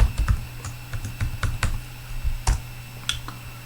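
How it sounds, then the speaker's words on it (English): Password being typed on a computer keyboard: a quick run of sharp, close key clicks in uneven bursts, with a few louder taps, and no one speaking. "and I'll enter the password."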